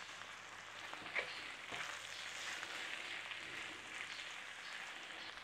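Cornish raw fry (a traditional Cornwall dish) sizzles steadily in a pan as its liquid cooks off and a crust forms underneath, with a continuous fairly loud frying hiss and a few faint clinks of stirring, no talk.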